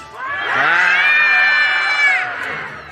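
A crowd of young voices screaming and shouting together in a loud, sustained roar that swells and then fades, at the Monsters Inc. Laugh Floor show in Disney World's Magic Kingdom.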